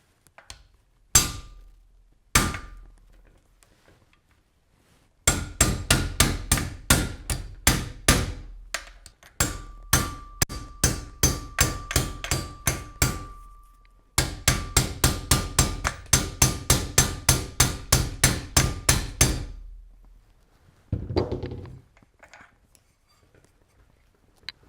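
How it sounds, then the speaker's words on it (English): A few separate hammer knocks, then long runs of quick, steady metallic taps on a spacer while fitting a tight handguard onto a Saiga-308 rifle, pausing once midway, ending with a scrape. "take some sort of spacer and hit on it with a hammer"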